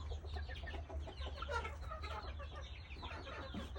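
Burmese fighting chickens clucking steadily at close range over a constant low rumble, with overlapping calls and no speech.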